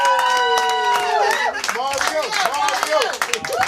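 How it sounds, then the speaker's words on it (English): A comedy club audience claps and cheers as a comedian is brought to the stage, a dense, loud wash of applause with whoops, partly under an amplified voice. "Start clapping, you're still clapping."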